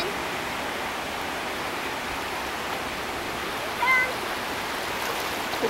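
Cold ocean surf rushes and washes onto a shore in a steady, close roar with no clear breaks between waves, and a faint brief chirp rises near the end.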